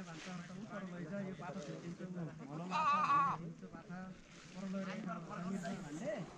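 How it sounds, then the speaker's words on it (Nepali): A large flock of sheep bleats along a mountain trail on the trek from Khopra to Khayer Lake, with several nearby calls rising over the wind and the voices of people talking. "यतातिर नि टन्नै रहेछ भेडाहरू कति धेरै हो यार"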